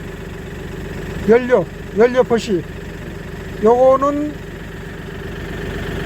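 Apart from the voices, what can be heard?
Daedong NX600C tractor engine idling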